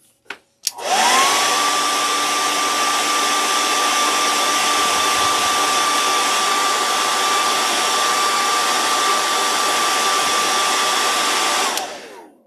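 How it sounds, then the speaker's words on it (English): A hair dryer blows steadily on freshly painted jerkbait fishing lure, switching on with a click, holding a loud even whine and rushing airflow for about eleven seconds, then cutting off. "I'm going to hit it with the hairdryer real quick"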